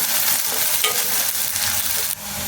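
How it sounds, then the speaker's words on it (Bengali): Onions for birista stir-fry in hot oil, a steady loud sizzle with scraping stirs throughout, continuous and close, without any talking. "পেঁয়াজগুলোকে সমান তালে আমি নেড়ে চেড়ে এখানে আমি বেরেস্তা করছি।"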